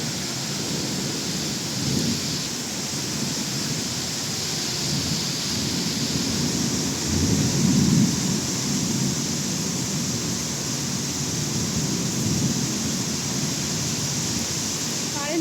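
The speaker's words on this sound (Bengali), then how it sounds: "মুসলধারে বৃষ্টি হচ্ছে" Torrential rain pours in a constant heavy wash while low thunder swells in several rumbles, with the strongest roll near the middle, all close and loud with no other sounds.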